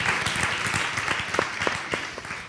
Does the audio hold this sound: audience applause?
yes